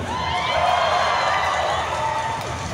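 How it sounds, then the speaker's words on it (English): A large, noisy convention audience at Momocon 2023 cheers and shouts in a continuous loud roar of overlapping voices and whoops. "This is a very, very noisy crowd"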